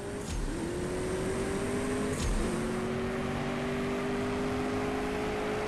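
A race car in the mobile drag-racing game CSR2 accelerates hard, its engine note climbing through gear shifts with short breaks between gears before nitrous kicks in. The loud, steady roar runs alone with no talking.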